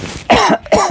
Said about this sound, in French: Pardon, je tousse.